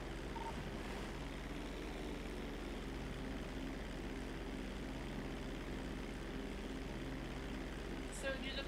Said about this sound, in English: Zancuda traffic, Cuban taking off.